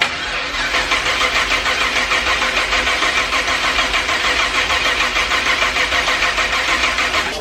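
The new Freedom Rocket engine cranks on its first startup attempt: a steady, loud, rhythmic churning of the starter turning the engine over. It runs continuously for the whole stretch without catching.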